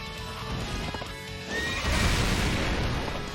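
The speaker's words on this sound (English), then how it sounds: "Okay, that's the horse though." A horse neighs loudly in the Fate/Grand Order mobile game, a bright whinny layered over busy battle music and effects, with clip-clop hoofbeats and a louder swell of action in the second half.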